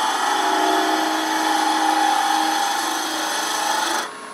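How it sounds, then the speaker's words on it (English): Lathe tool taking very fine, light cuts on a wooden goblet spinning in a scroll chuck at around 1100 RPM, a steady continuous close rasping hiss with a faint whine, easing slightly at the end. "We're just going to take very small cuts. Very fine shaving, so I don't rip this wood right out of the scroll chuck."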